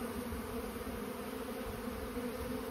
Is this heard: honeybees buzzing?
yes